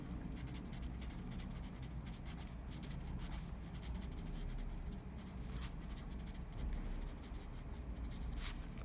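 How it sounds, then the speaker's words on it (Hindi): Handwriting on paper while working an accounting entry, a faint continuous scratching of pen strokes with small rhythmic bursts, close and quiet, with no speech. "यहाँ पे लिखेंगे"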